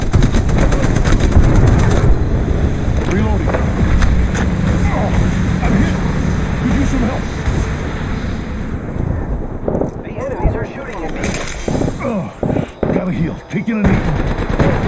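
Heavy gunfire fills an Apex Legends firefight, rapid loud automatic bursts and blasts running almost continuously under character voice lines before thinning out toward the end.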